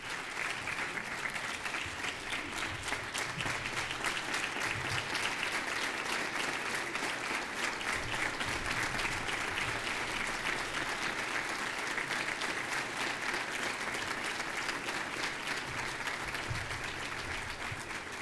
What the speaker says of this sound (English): Ladies and gentlemen, please give some applause, wonderful applause, to our General, Ricardo Sanchez.